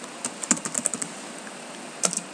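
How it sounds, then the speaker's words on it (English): Someone types on a computer keyboard into a blank Microsoft Word document, a quiet run of quick, irregular key clicks in short bursts with a brief pause in the middle. "please go ahead and type your name"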